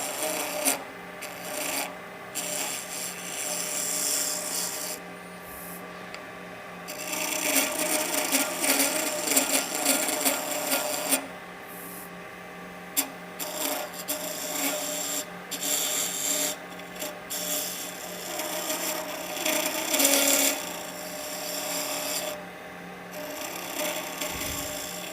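An Easy Wood carbide tool scrapes wood on a spinning lathe while a deer grunt call is turned, giving a steady, rasping cut that swells and eases over about 25 seconds, with brief pauses and no talk.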